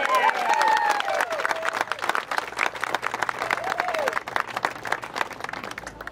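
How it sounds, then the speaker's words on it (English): A crowd applauds at an outdoor dedication ceremony for a new state preserve in Gloucester County, New Jersey, with scattered clapping and a few calls over a faint background, moderately loud and fairly steady. "I think that's worth applause."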